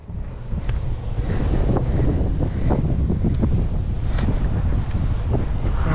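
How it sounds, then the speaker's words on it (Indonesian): Strong wind at sea buffeting a microphone on a small fishing boat in stormy weather, a loud continuous roar with rushing gusts and splashy texture throughout, no voices. "Memang angin terlampau-terlampau kuat."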